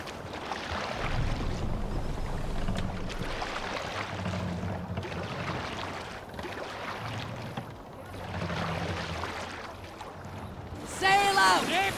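A Viking longship setting sail in Assassin's Creed Valhalla: steady wind and water wash against the hull with rhythmic rowing surges, voices calling out over it, ending in a brighter burst of sound.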